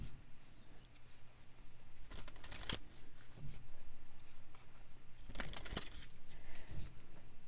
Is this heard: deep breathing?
no